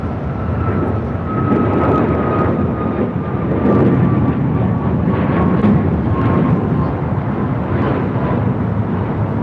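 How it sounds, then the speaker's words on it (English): A United Airlines Boeing 737 MAX 8 takes off from LAX, a loud continuous jet engine roar with a faint whine over a deep rumble that swells slightly and holds, with no talking. "This is United Airlines 1374 taking off to Denver, Colorado on the MAX 8s"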